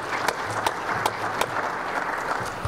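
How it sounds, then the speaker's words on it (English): Applause from an evening community forum audience on school safety, steady clapping with a few sharper claps standing out, filling the room at moderate loudness. "Let's give him a round of applause"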